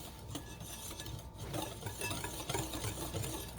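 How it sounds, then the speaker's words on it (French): A whisk scraping and swishing around a bowl of dry ingredients (dehydrated yeast, salt, sugar) for a ham bread dough, a steady close rasping rub with no talk. "Avec notre fouet, nous mélangeons tous les ingrédients secs."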